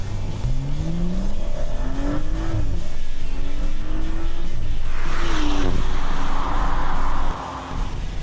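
An SUV in sport shifting mode accelerates hard from inside the cabin, its engine note climbing in rising sweeps broken by quick gear changes, loud and continuous with road roar, and no one speaking.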